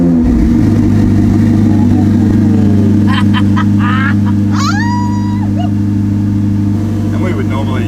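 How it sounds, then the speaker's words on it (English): A Ferrari 488 Challenge race car's engine running loud and steady close by, a deep continuous hum with a few short electronic tones rising over it midway. "with your foot on the brake, you would then press the red button, start button"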